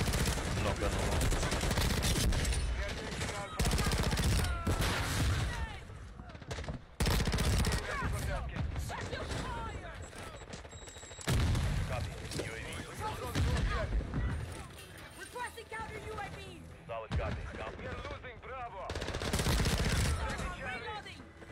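An AK-74 fires in a video game, loud and close, in dense bursts of rapid automatic gunfire that repeat with short gaps, while players talk over the shooting.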